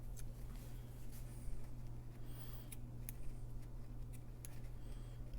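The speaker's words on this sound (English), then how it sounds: "I think I'm gonna have to get a scissors or something." Scissors snip at a sewn mint coin bag, making a few sharp, quiet clicks and cuts spaced irregularly over a low steady hum in a quiet room.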